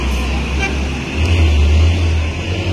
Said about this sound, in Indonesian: Ini kondisi lalu lintasnya padat lur ya